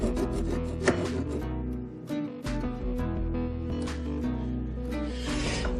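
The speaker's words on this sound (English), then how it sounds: "I really need to get in there with the file" A metal file rasps back and forth over a weld on a Lambretta scooter panel while fitting a panel hook kit, making rough, uneven scraping strokes with brief pauses, close and fairly loud, no voices.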